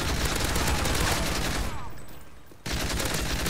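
A gun turret fires continuously in Call of Duty: Modern Warfare 3, a loud, dense burst of rapid gunfire that pauses for about a second and then resumes at full intensity.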